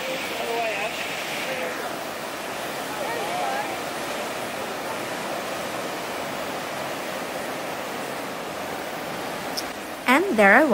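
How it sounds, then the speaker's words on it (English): Ocean waves break up close along the Coogee to Bondi coastal walk in Sydney. A steady, broad roar of surf and wash fills the scene, with a brief voice at the end. "just enjoying the views of the ocean waves up close"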